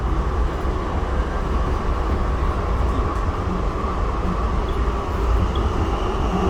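A Siemens U2 light rail car, CT unit 2003 on the Red Line, rolls along the track with a steady low rumble and broadband rail noise heard from inside, constant and fairly loud throughout.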